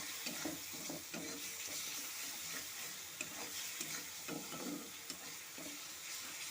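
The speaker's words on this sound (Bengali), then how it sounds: "সমস্ত গুঁড়ো মশলা দিয়ে এখন আমি মশলাটা ভালো মতো কষে নেব" Ground spice masala with a splash of water fries in a pan for stuffed pointed gourd, giving a quiet, steady sizzle broken by soft rhythmic stirring scrapes, with no one talking.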